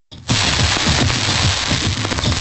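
Fireworks at the Clovis Rodeo Arena: after a brief quiet start, a loud dense barrage of rapid crackling bursts and pops runs continuously, close and sharp.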